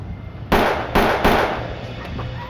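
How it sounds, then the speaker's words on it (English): Three sharp gunshots fired in a street, loud and close, spaced about half a second apart with short decaying echoes, heard alone without talk. "The gunshots were heard by residents throughout the neighborhood."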